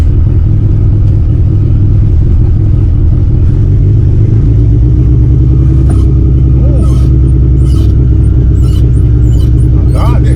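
An old Honda Civic engine idling up close, giving a loud, steady low rumble with an even throb that holds for the whole stretch.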